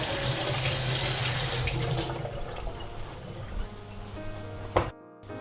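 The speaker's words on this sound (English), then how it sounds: "In the meantime, we can wash the pumpkin." Water from a kitchen tap gushes steadily into a sink as a pumpkin is washed, loud for about two seconds, then softer running with light splashes before a brief clunk near the end.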